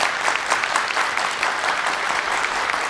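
At an ACC InVenture Prize finals event, an audience claps in a dense, even wash of applause that holds steady for the whole stretch, fairly loud and close.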